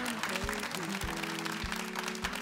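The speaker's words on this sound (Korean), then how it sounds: "진짜 박수 한번 예, 보내주세요." Applause from a Korean TV music show studio audience, moderately loud and continuous, with a steady beat of background music running underneath.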